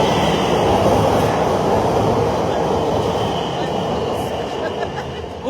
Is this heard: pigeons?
no